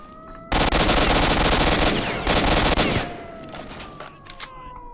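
Rapid automatic gunfire in the shooter game STALKER: Shadow of Chernobyl comes as two loud sustained bursts, then scattered single shots and a fading whine with a few clicks, with no talk.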